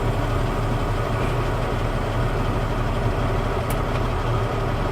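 A truck engine idles steadily in first gear, a loud continuous low rumble with no change in pitch and no talk over it.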